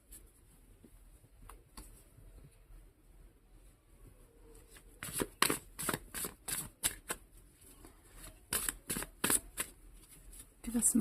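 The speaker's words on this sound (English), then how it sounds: "I'm going to shuffle one more time." Tarot cards are shuffled close by: soft quiet rustling at first, then a run of sharp, rapid riffling bursts that grow louder toward the end.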